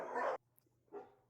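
A rescued shelter dog gives one short, muffled bark, then a brief silence and a softer second yip. Both are quiet and close.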